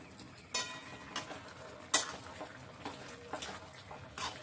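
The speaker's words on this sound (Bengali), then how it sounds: "এবার ঢাকাটা সরিয়ে একটু নেড়ে ছেড়ে দিই।" A metal pot lid lifted off and food stirred in a home kitchen, giving a few faint, sparse clinks and scrapes with quiet gaps between them.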